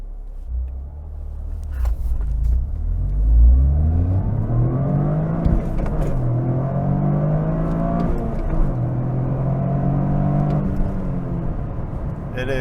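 Toyota GR Corolla, around 300 horsepower in all-wheel drive set to a 50/50 split, accelerates hard on the road from inside the cabin: engine revs climb through several gear changes, a loud, close rumble throughout with road noise underneath.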